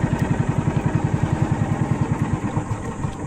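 A small boat engine idles during a sea trial with a steady, rapid low putter, close and even, with no voices.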